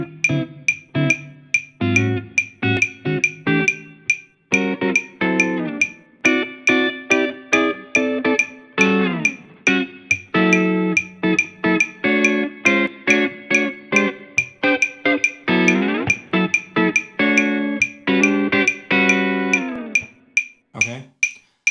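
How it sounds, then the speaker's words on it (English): A metronome clicks steadily at 140 bpm over a jazz blues accompaniment, its sharp ticks cutting through the chords at an even pulse. "So with the metronome, it would sound something like this."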